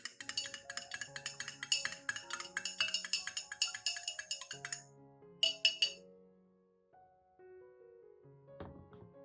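A spoon clinks rapidly against a glass while stirring coffee grounds into water, in a steady stirring rhythm, then slows to a few scattered taps and ringing knocks.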